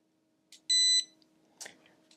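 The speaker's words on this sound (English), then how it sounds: "You're going to hear a beep." A single sharp electronic beep from a Quick Scan MINI canine progesterone test machine during calibration, loud and short, rings out in a quiet room, followed by a couple of faint clicks.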